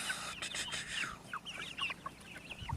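Several chickens cluck and chatter at close range, with overlapping busy calls and a steady farmyard background hum.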